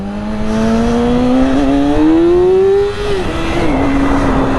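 A motorcycle engine revs up in a long rising whine while the rider lifts into a wheelie, holding loud and close, then dropping briefly as the gear changes and settling to a steady drone.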